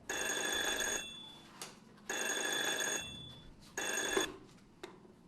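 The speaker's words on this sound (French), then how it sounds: "Vous ne répondez plus au téléphone ici maintenant?" A telephone rings in a police station in three long, loud bursts with short quiet gaps between them, and faint clicks and knocks fall in the pauses.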